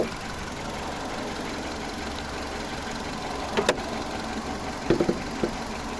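A 2007 VW Polo Cross 1.6 MPI petrol engine with twin camshafts and 16 valves idles under the open hood, giving a steady, even low hum with a few faint clicks near the end.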